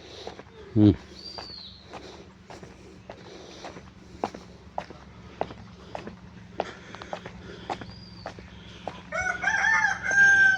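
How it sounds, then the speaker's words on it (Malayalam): A rooster in Meghalaya crows loudly near the end, its long strained call rising over ambient village noise, footsteps and a brief voice earlier on. "നല്ല അടിപൊളി കോഴി."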